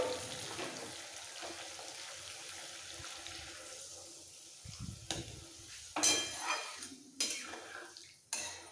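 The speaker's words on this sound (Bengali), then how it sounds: "মশলার সাথে আলু ঝিঙে ভালো করে কষানো হয়ে গেছে, এবার দিয়ে দিতে হবে গরম জল" Hot water going into a pan of spiced potatoes and ridge gourd: a soft, steady sizzle gives way to louder hissing splashes and bursts near the end, close by and without talk.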